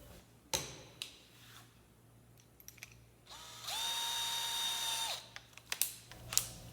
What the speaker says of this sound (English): I'm just going to drill through my sheet metal here at the table